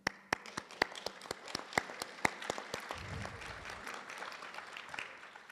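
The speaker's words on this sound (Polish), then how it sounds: "i tu wielkie brawa" At a gallery opening, the audience claps: sharp, distinct claps ring out one after another, then a softer, denser patter of applause follows with a low murmur beneath.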